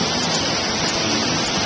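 Steady rain falls outdoors on a cold hiking day, a dense, even hiss close by with no voices.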